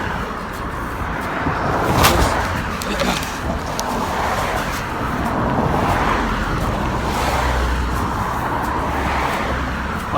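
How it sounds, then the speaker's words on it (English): Steady road traffic rolls past outdoors, a continuous wash of car and engine noise with a louder vehicle swelling by early on, the hum holding at a constant moderate level throughout. "lots of traffic on this road."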